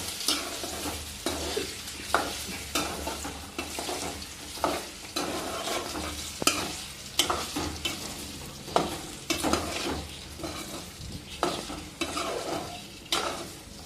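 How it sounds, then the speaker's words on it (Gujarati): Potatoes sizzle in hot oil over low heat while a utensil stirs them in regular scraping strokes, a steady crackle broken by rhythmic scrapes and clinks. "તેલ ગરમ થઈ જાય પછી બટેટા સરસ મજાના ધીમો ગેસ રાખી અને પછી આપણે તાળવાના છે"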